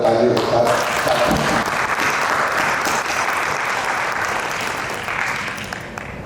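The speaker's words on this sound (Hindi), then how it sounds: "इस खूबसूरत कृति के लिए अंजू जी को सारे के सारे लोग तालियों के साथ।" Loud, full applause from a gathered audience at a book launch honoring author Anju Ranjan's work "Sheetal Dhoop," many hands clapping densely and close, gradually tapering toward the end with faint voices underneath.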